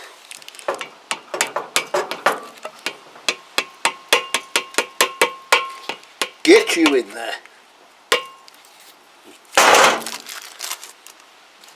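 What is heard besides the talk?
hammering parts into Kawasaki GPZ500S swingarm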